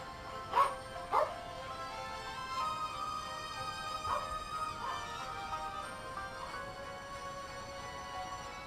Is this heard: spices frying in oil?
no